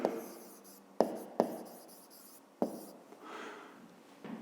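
A pen writes a math expression by hand on paper in a fifth-grade math exercise, with close, scratchy strokes broken by several sharp taps as the pen touches down and lifts over a few seconds.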